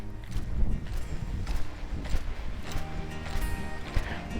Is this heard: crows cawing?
no